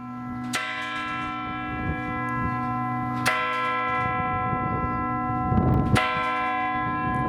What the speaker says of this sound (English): I wanted to make it up here to see if the bells actually chimed.